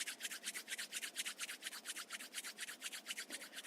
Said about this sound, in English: Rub your palms together again.